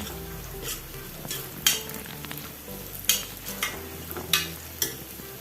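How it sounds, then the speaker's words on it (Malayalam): Chopped onions frying in a pan with ginger-garlic paste for Malvani chicken masala, a continuous sizzle broken by several sharp spatula scrapes and knocks against the pan. "ഇനി അരിഞ്ഞ വെച്ച ഉള്ളി ചേർത്ത് കൊടുക്കാം ഉള്ളി വാടി വന്ന്"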